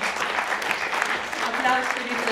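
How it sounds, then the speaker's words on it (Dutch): Audience applause at an award ceremony for best documentary, a steady, dense patter of many hands clapping at moderate volume throughout, with some talk mixed in near the end. "Applaus voor jullie talent."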